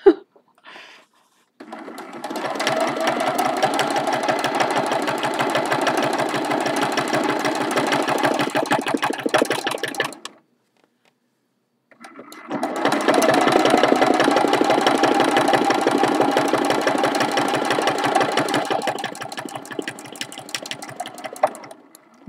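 A sewing machine stitches down an appliqué flower on a watering can mug rug, running fast and steady in two long bursts separated by a brief pause, close and loud with no talking.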